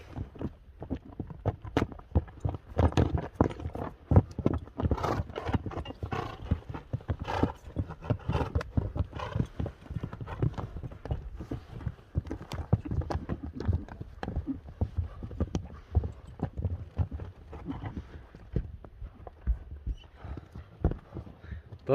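Horses race with rapid, heavy hoofbeats pounding in a dense, irregular rhythm throughout, close and loud, while a voice talks over them.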